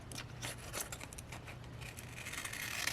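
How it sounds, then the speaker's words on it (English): Scissors cutting through material while crafting a journal, a continuous close crunching and scraping with repeated snips and no voices over it. "these scissors is going to constantly try to catch."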